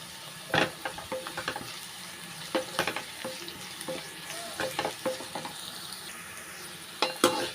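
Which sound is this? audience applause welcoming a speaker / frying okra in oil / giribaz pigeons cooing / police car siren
frying okra in oil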